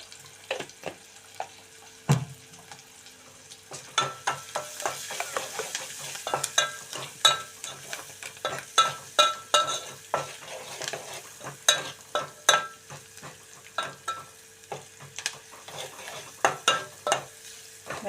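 Chopped onions fry in a pan with salt and a spoon of turmeric, stirred steadily, giving a run of sharp scraping clicks over a low sizzle throughout.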